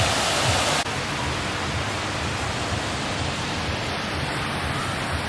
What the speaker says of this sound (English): Let's get a shot of the waterfall from this angle.